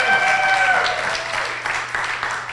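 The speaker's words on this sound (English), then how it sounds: "Everybody give her a round of applause again." Audience applause at a stage launch event, a steady wash of clapping lasting the whole moment, fairly close and full, with a few faint voices mixed in.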